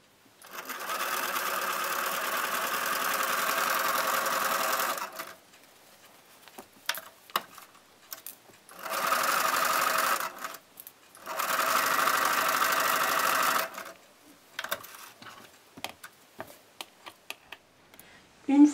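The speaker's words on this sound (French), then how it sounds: "Et je vais coudre sur le trait." Three steady bursts of a sewing machine stitching patchwork quilt pieces for a table runner along a marked line, each several seconds long, separated by quiet gaps with light handling clicks.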